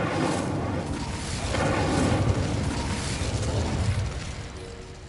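Incendio fire spell cast in a Harry Potter video game: a loud, broad whooshing burst of flame that swells for a couple of seconds and then fades, heard alone with no talk.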